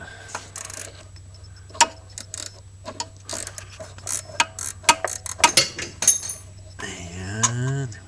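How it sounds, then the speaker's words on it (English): Ratcheting box wrench working a 12 mm alternator bolt on a 2005 Hyundai Tucson: scattered sharp metallic clicks and short ratchet bursts close up, irregular and fairly loud against a low hum, with a brief scraping rattle near the end. "At least I have a ratcheting box and wrench."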